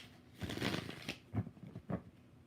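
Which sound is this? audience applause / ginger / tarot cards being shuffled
tarot cards being shuffled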